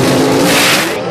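A mechanically fuel-injected 1933 Willys gasser roars loudly at a drag strip for a brief moment, a dense close engine blast that fades slightly at the end.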